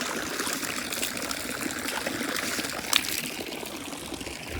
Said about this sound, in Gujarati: આ જો પાણી પડે છે